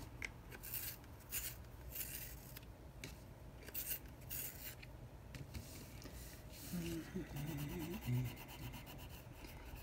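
Steady scratchy rubbing of a Prismacolor Premier colored pencil on paper, repeated short strokes close up, with faint low background noise.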